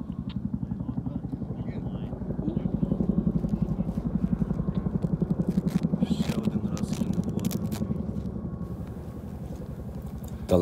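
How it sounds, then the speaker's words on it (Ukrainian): A firefighting helicopter flies over the mountains during a California wildfire, its rotor beating in a steady, rhythmic thump at middle distance for several seconds, with faint voices in the background. "гелікоптер – тільки єдиний спосіб, який може доставити воду на пожежу"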